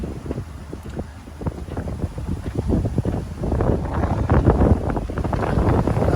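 Strong wind gusting up to 30 knots around a sailing boat running downwind at 9 knots in the Ionian Sea: a continuous buffeting roar that swells louder and rougher through the second half, with no voices.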